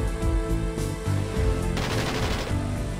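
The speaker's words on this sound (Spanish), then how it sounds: "¿Qué pasa, balacera?" Rapid bursts of gunfire crackle in quick succession, dense overlapping shots with short pauses between volleys, loud and harsh with no talk.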